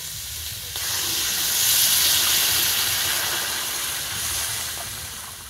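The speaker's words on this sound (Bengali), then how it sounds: "এবার একটু জল দিয়ে দেবো।" Water poured into a hot pan of frying pumpkin and potato sets off a sudden burst of loud hissing steam that swells, holds, and slowly eases off.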